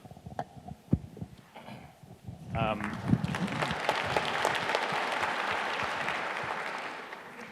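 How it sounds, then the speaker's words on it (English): An audience at an astronaut panel discussion breaks into applause after a few sparse sounds and a brief voice, swelling into steady, full clapping that slowly fades toward the end. "Yeah, it's definitely worth clapping for."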